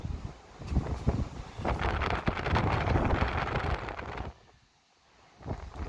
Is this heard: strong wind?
yes